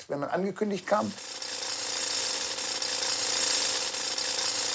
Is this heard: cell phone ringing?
no